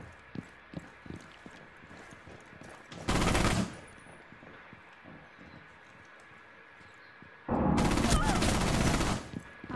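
Gunfire from a secondary weapon in Rainbow Six Siege: two loud bursts of rapid automatic fire, the first short and the second longer, separated by quieter footsteps, clatter and faint in-game sounds.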